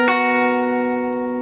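A clean electric guitar plays a single sustained note or chord from a song, with a plucked attack and a steady ringing decay. It is heard alone, up close and clearly.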